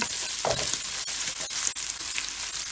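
Streaky Costco bacon frying in a pan, a steady close sizzle and crackle running throughout with a few brief stirring scrapes, no voices.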